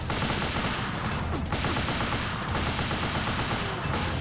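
Rapid, continuous percussive pounding from the Army Men: Lock 'n' Load video game, a dense rattling beat like drums or gunfire running loudly and steadily throughout with no pauses.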